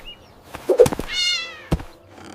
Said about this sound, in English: This is Milo, the clever cat, always ready for a little adventure